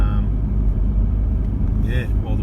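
A car drives along a sand beach on the Tasmanian coast in high range, its engine rumbling low and steady throughout, with a voice talking over it.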